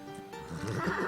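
A horse in the video game Shroud of the Avatar gives a short neigh that rises near the end of the clip, over faint game background sound.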